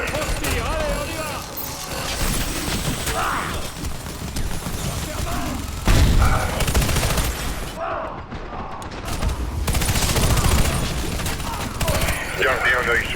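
Gunfire during a heist in the Warface shooter game: rapid bursts of shots mixed with clanking mechanical effects and crashes, steady over the length, with voices talking on and off.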